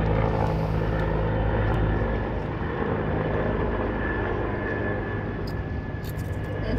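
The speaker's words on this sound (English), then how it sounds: "I bet that helicopter is part of the commercial." A helicopter drones steadily overhead across a lake, its rotor and engine noise a constant loud rumble with no talking.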